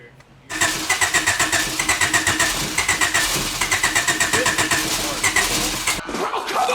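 A car engine cranks with a fast, rhythmic churning, roughly a dozen steady beats, after its fuel pump was swapped, then it fires and settles into a rough idle near the end.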